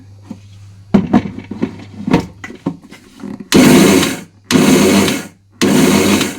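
Mixer grinder coarsely grinding sesame seeds in short pulses, three loud whirring bursts separated by brief pauses, following a series of knocks and clatters as the jar is handled.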